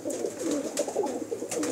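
Racing pigeons cooing close by in a continuous, overlapping murmur of soft throaty calls, with light fluttering noise in the background.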